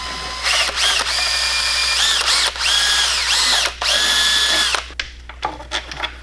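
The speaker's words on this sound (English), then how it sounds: "Just go drill that part out in the wide body." A power drill bores bolt holes into a widebody kit, whining loudly in several sustained runs with brief pauses, then trailing off into softer clicks and handling noise.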